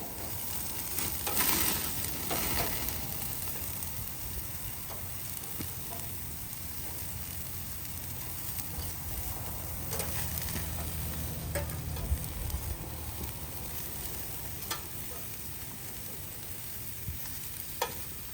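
Sausages sizzle and crackle steadily on an NXR gas grill, a continuous close frying hiss with scattered pops for the whole stretch.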